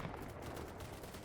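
Gunfire and explosions from the video game Battlebit Remastered, a dense, continuous rattle of shots with booming blasts, fairly faint and steady throughout with no talk.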